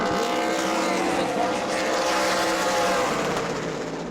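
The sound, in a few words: stock race cars racing at New Smyrna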